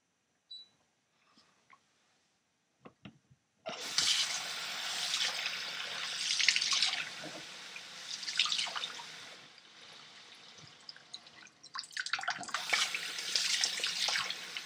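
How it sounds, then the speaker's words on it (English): After a few faint clicks, hot water pours steadily into a container, a splashing stream that rises and falls in intensity, close and fairly quiet. "Okay, now filled it with hot water."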